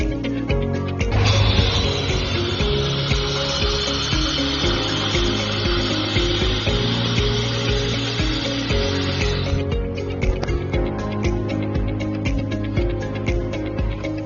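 A sandblaster gun runs a vacuum suction test with no abrasive media, giving a steady airy hiss over a constant compressor hum that stops partway through while the hum keeps going.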